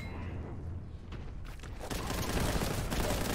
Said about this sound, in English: I was hoping the grenade would kill you, but it did not.